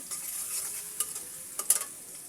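Onion frying in a pan for fried rice gives a soft steady sizzle, with a few light scraping stirs near the close.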